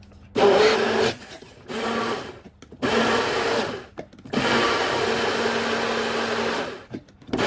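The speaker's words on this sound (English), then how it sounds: "I will put half of banana into the blender, some oat milk, decaf, and I'm just gonna blend all of it." A blender blending banana and oat milk whirs loudly in several bursts separated by short pauses, with a final long run of steady grinding.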